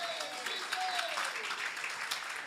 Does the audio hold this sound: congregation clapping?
yes